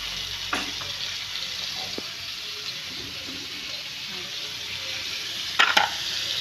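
Garlic, onion and tomato sautéing in a pan, a steady bright hiss of frying that fills the whole stretch, with a few clinks of the utensil and a short burst of louder sizzle near the end.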